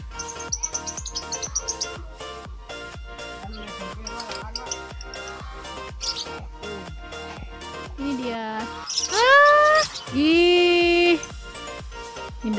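A white-rumped shama (murai batu) songbird let loose into its cage gives clear whistled song phrases and chirps over steady rhythmic background music, loud and close.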